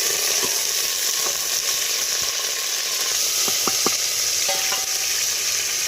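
Sliced onions sizzle and crackle steadily in hot oil for a beef and cabbage curry, with a few sharp clinks and scrapes of a spatula stirring the pan partway through.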